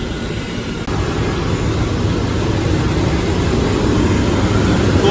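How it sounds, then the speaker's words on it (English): A ship's auxiliary engine runs in the engine room as a loud, steady broadband roar with a constant low rumble and high whine, close and unbroken throughout, with no voices. "We will go and check for the auxiliary engine."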